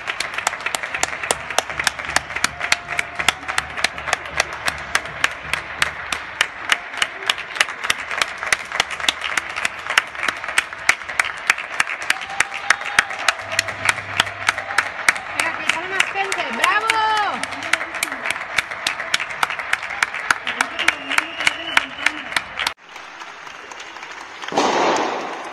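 Neighbours applaud health workers during the coronavirus pandemic with a fast, steady rhythmic clapping and banging that continues for over twenty seconds before cutting off, with a faint voice briefly heard near the end.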